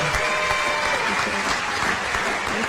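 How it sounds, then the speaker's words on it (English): Audience at a San Diego mayoral candidates forum applauds steadily for the candidates, a dense, continuous clatter of many hands throughout. "How about another round of applause for our candidates?"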